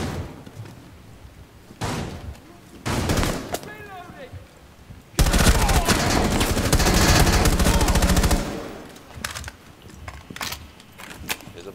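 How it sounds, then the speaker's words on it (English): In Rainbow Six Siege, gunfire rings out from an upper floor: scattered single shots and short bursts, then a long, loud stretch of sustained automatic fire that tapers off, with voices heard at times. "I'm shooting them from the floors upstairs."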